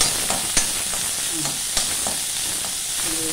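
Okra and onion sautéing in a pan for a stir-fry, with a steady close sizzle and a few sharp scraping clicks as the vegetables are stirred.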